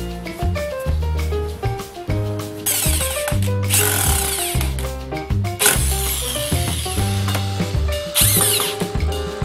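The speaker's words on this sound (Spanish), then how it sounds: "Se fija con tornillos lateralmente." A power drill or driver whirs in repeated bursts as screws are driven sideways into wooden tool organizer parts, with high whining runs, pauses and shifting motor pitch, near and loud.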